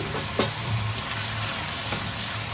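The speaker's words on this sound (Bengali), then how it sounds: "মুড়িগুলো সব শুকনো খোলায় ভেজে নিচ্ছি" Puffed rice dry-roasting in a pan gives a steady, close rustling hiss over a low background hum, with no voices.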